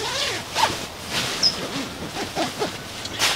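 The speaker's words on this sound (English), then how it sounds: "Really nice high quality zipper." A high-quality zipper on a Therm-A-Rest Centari winter sleeping bag is zipped in several quick, rasping pulls, close and fairly loud, with no talking.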